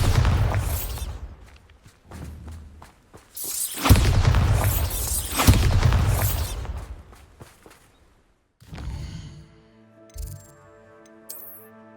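Bombarda explosion spell cast in Hogwarts Legacy, a series of loud blasting bursts and crackling shatters with game music and effects trailing into quieter tones at the end.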